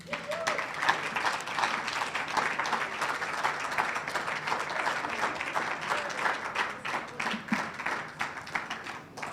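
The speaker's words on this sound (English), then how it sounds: "Ladies and gentlemen, a warm round of applause as we welcome to the stage the keynote speaker, Mpho Makwana." A large audience at an annual lecture event applauds to welcome the keynote speaker to the stage: dense, steady clapping that holds loud and even for the full stretch, with no voices standing out.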